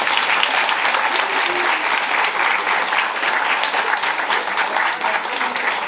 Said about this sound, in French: je pense qu'on peut les applaudir aujourd'hui